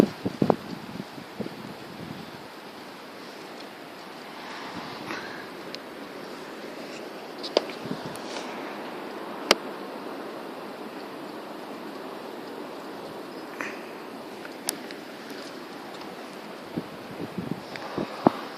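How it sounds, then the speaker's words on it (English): Blizzard wind blowing past an open window, a continuous rushing roar across the whole stretch, with scattered clicks and gust bumps throughout. "Yep, there's a blizzard. Holy crap, it's windy, guys."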